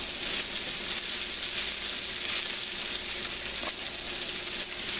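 Squash dredged in flour sizzles steadily in hot oil, a dense, even crackle of frying that holds close and loud throughout with no voices.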